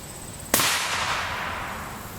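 A single sharp gunshot from a P80 pistol fired at Chinese-made Militech NIJ Level IV body armor, a loud sudden crack followed by a long fading echo, with no talking.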